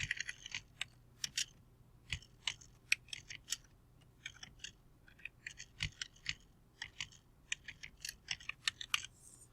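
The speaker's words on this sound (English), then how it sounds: "For the last time, I'm going to type in again" Quick bursts of typing on a computer keyboard, close and crisp, with irregular clusters of key clicks separated by short pauses and no talking.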